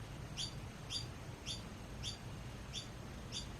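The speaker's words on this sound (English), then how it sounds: "Robbie, can you please come and shoo the birds from outside the studio window because they're trying to make a point" Small birds outside a studio window give short, high chirps in a regular repeating rhythm, about one every half second, over a low background hum.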